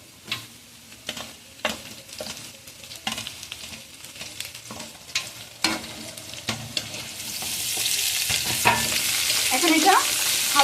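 Chopped onions frying in a pan for akhni biryani, a spoon tapping and stirring in regular strokes at first, then a loud, steady sizzle swelling close by as the onions cook.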